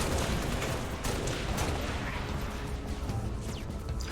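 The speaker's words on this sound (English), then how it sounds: "I shot a guy with a gun. It went boom." Gunfire in a Halo-style video game with Spartans, a dense continuous clatter of shots and booms spread across the clip, fairly loud and busy with no clear talk.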